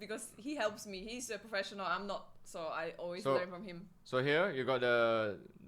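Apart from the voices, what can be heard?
No distinct noise like a dog, phone or traffic.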